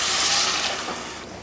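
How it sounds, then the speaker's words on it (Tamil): Water poured into a pan of cooking Tamil kulambu curry with tamarind, a short, close, steady gushing splash that fades toward the end. "தண்ணி கொஞ்சம் சேர்த்துக்கலாம்"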